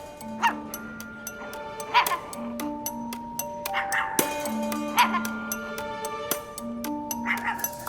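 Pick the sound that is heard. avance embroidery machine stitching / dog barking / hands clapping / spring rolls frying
dog barking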